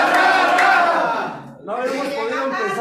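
An audience roars and cheers, loud and close, then the noise dips briefly before whooping and cheering pick up again.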